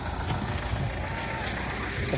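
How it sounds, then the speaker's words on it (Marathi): A steady tractor engine drone runs throughout, with a low rumble and broadband noise from the nearby running motor. "मालकांचं बघा अजून ट्रॅक्टर असला ना घुमत निघतो हे ट्रॅक्टर"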